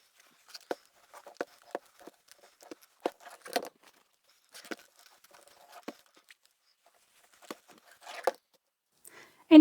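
Scissors trim excess from old fabric scraps, producing a sparse series of soft, close snips and crisp cuts scattered through otherwise quiet surroundings, with a louder rustle at the very end.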